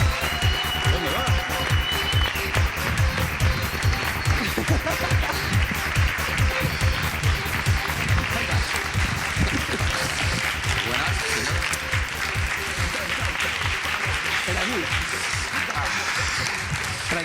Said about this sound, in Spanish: pido un fortísimo aplauso para Paco Pil